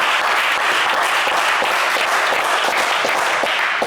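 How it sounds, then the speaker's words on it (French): A TV game-show studio audience applauds a quiz contestant, a dense, even roar of clapping that stays loud and sustained throughout with no talk over it. "on vous applaudit"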